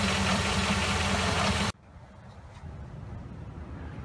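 A truck engine runs loud and steady, then drops abruptly to a lower idle that slowly builds again, close by.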